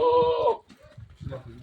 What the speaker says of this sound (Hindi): ये बकरा अच्छा है माशाल्लाह